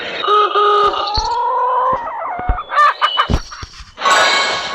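Cartoonish chicken clucks and squawks in quick bursts, a rooster-like crow among them, sounding close and synthetic over bright game effects in the farm game Hay Day.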